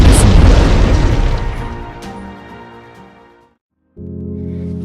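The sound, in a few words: artillery shelling explosions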